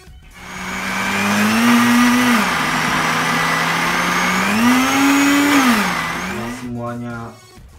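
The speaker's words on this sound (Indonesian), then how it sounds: "setelah itu tempenya kita blender guys, kita blender, kasih air ya" Electric blender blending soft tempeh with water for homemade cat food: a loud, steady motor whine that rises and falls in pitch twice as the load shifts, then cuts off near the end. A voice speaks briefly underneath.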